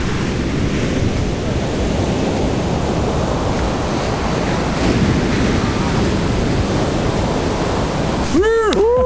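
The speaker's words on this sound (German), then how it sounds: "Dem Beach mit den wohl krassesten Wellen." Heavy ocean surf roars steadily as waves crash continuously onto Kelingking Beach on Nusa Penida, a loud unbroken wash of noise with a brief warbling electronic tone at the end.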